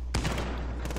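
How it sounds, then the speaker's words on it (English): Sniper rifle gunfire in the Warzone video game: a sharp, loud shot cracks near the start, followed by a sustained rumbling echo and a fainter second report near the end of a brief one-second burst. "I hit him with my sniper."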